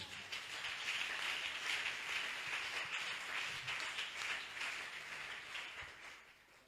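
A church congregation applauds and acclaims the Lord, a broad wash of clapping that swells and then slowly fades, with no voices standing out above it.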